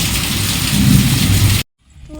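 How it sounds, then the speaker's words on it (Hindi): Heavy rain pours steadily as a loud, dense roar with a low rumble beneath, then cuts off abruptly into near silence with faint sounds. "हो रही है बहुत जम के बारिश।"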